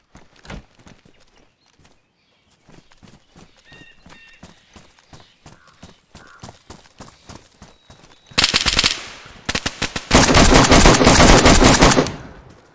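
Gunfire in the video game DayZ during a village battle: scattered single shots and footstep-like clatter at first, then loud rapid bursts of automatic fire dominating the last few seconds.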